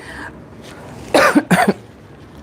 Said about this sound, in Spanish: entonces me da tos